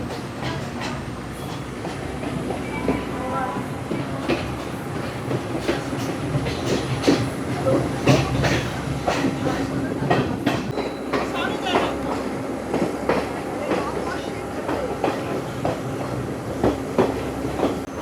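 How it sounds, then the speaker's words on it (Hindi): The Ella Odyssey passenger train runs from Ella toward Ambewela in Sri Lanka, its wheels clattering rhythmically over the rails with steady rumble and wind throughout, heard from on board. "एला ओडिसी ट्रेन में पहला सफ़र एला से अम्ब्रेला तक।"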